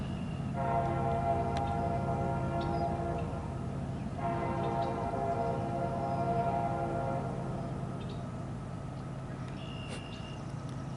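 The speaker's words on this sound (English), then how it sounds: "Hear how loud that train horn is?" Distant train horn sounding along a trail near a canal lock, two long sustained chord blasts with a brief gap between them, heard from afar over steady outdoor background noise.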